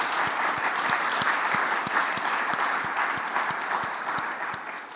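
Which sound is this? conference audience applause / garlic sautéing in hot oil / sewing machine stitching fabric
conference audience applause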